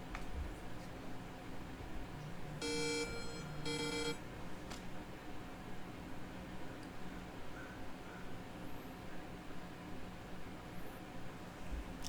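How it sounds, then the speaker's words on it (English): A phone ringtone from an incoming call gives two short bursts of bright, bleeping tones close by, then cuts off, leaving a quiet room with low background hiss. "That was my ringtone."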